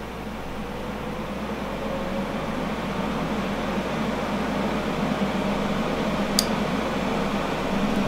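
A smoke extractor fan in a home cigar lounge runs on its turbo setting, a steady broadband whoosh with a low hum, constant and unbroken throughout.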